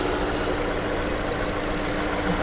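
Car engine idling steadily after starting, a continuous dense rumble with a constant hum, loud and close, no voices.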